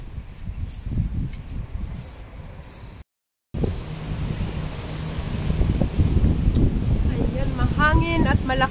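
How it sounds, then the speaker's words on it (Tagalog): Strong wind and rain after a typhoon beside the Shatin river in Hong Kong, loud gusts buffeting the microphone with a brief dropout, and faint voices underneath. "Mahangin at malakas pa ang ulan,"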